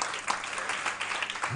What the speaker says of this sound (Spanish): Un aplauso aquí para Tenerife, ¿eh?